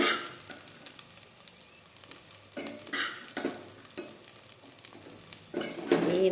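A spoon stirs rice with urad dal and cumin in a hot pan, producing soft scraping strokes over a faint sizzle, quiet and close, in irregular bursts.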